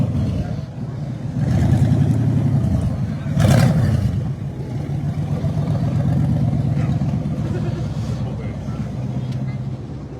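Classic cars pulling into a Saturday morning car show rumble past at moderate distance, engines swelling and fading with one louder pass, while voices murmur in the background.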